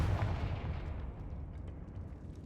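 Confringo fire spell in the Hogwarts Legacy PC game, a loud continuous low rumbling blast that rolls on and slowly fades over a couple of seconds.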